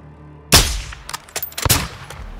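A sniper rifle fires in a PS5 shooter game during a camouflage sniping mission: a sudden loud, close crack opens the moment, followed by scattered sharper reports and rumbling echoes as the shots trail off.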